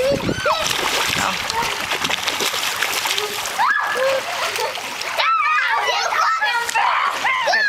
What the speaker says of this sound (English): Swimming with us in this nice pool.